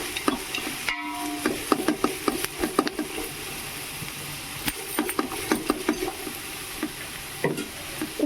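Egg rice with shredded cabbage being stirred in a frying pan, a spatula scraping and clinking steadily against the pan over a continuous close sizzle, with irregular knocks throughout.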